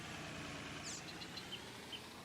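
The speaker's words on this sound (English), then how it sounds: "Just leave the engine running." A tractor engine in Farming Simulator 19 idles at a steady, quiet rumble throughout, with faint chirps above it and no talking.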